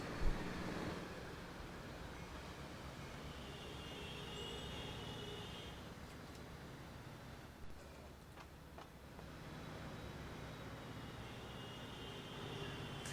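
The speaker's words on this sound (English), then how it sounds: "This train's going forward." A train rolls forward in the video game Transport Fever 2, a soft steady rumble of wheels on track with faint clicks, quiet and continuous for the whole stretch with no talking.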